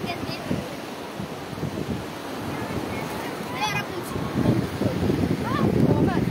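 Wind and waves on the beach at Port Said, a steady roar of surf with buffeting wind noise that swells louder toward the end, with faint voices in the background.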